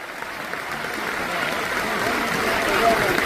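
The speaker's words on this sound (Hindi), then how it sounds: "एक बार जोरदार तालियां जाऊंगा पापा के लिए।" A crowd at a New Delhi leadership programme event applauds loudly and steadily, a dense continuous clapping that swells slightly toward the end, with a voice faintly mixed in.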